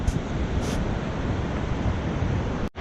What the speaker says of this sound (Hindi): यहाँ पे आप पानी का शोर सुने, यकीन माने बहुत ज़्यादा शोर आ रहा है।